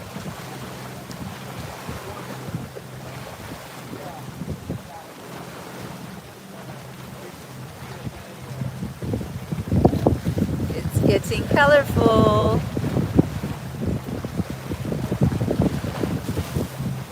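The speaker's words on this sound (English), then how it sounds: "It's still really windy though." Steady wind buffets the microphone along with low surf and water noise, growing stronger partway through while a person speaks briefly.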